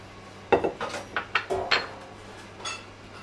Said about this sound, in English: Slide onto the plate